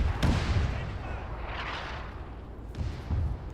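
In Arma 3 set in World War II, a tank shell strikes a nearby tank with a heavy booming impact, followed by rumbling engine noise and further dull thuds, loud and close.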